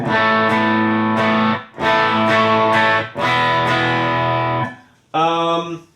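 Distorted electric guitar chords ring out in three sustained strums, thick and compressed, followed by a short brighter chord, loud and up close.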